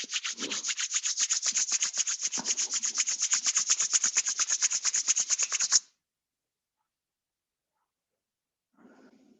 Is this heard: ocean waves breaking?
no